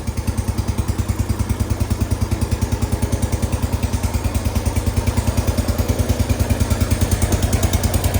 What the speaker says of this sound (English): I think my muffler's got a hole in it because it's pretty loud.